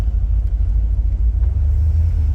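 A 1970 Corvette convertible driving, its engine giving a deep, steady low rumble close by with slight pulsing undulations and road noise, no speech.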